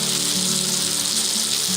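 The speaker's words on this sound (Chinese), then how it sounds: "再把辣椒一面煎到虎皮状" Stuffed green peppers blister in oil in a nonstick pan, a steady close sizzle and crackle of frying that holds evenly throughout with no voices.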